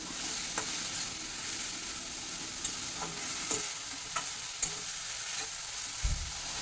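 Prawns and mustard paste are stirred together in a pan, making a constant close frying hiss punctuated by a few sharp scrapes and taps of the utensil against the pan.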